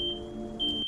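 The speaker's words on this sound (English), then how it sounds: "Smoke alarm." A smoke alarm in the game Nancy Drew: Midnight in Salem emits a piercing high electronic beep, sounding twice in quick succession over a low hum.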